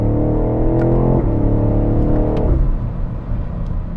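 A 2020 BMW X6 M50i with a 4.4-liter engine and 8-speed gearbox accelerates hard from inside the cabin, its loud steady engine roar climbing in pitch and dropping at each gear shift, then settling into a lower drone.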